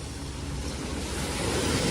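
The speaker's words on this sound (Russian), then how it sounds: "особенно там катер прошел, сейчас пошла волна" Sea waves from a passing motorboat's wake wash and break steadily near the shore, with wind rumbling across the microphone and no voices.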